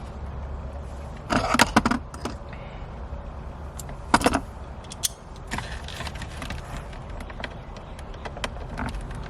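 Small T25 Torx screw being unscrewed on a Dodge Challenger shifter during a Hurst shifter install, giving faint intermittent creaks and metallic clicks with a few brief louder rattles against a quiet background.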